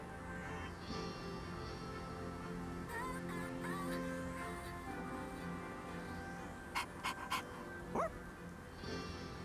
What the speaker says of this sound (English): What's with the dog?